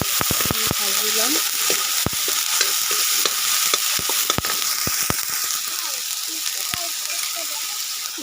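Blended onion paste fries in a pan with a continuous bright sizzle, broken by sharp clicks and scrapes of stirring, close and steady throughout.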